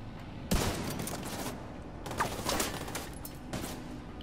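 Gunfire in the video game Tom Clancy's The Division 2: several sharp bursts of shots at roughly one-second intervals over a steady game background, loud and close, with no talking.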